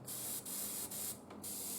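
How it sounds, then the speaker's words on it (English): Black spray paint misted onto the tip of an Imperial Knight model, with three short hissing bursts in close succession and brief pauses between them. "So I'm just spraying the black at the very tip."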